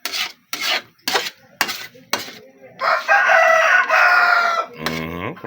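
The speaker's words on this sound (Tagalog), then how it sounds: "Ingay na aking alagang manok." A pet rooster crows loudly nearby: rasping, scratchy bursts come first, then a long strained crow, a final ringing call, and no talk.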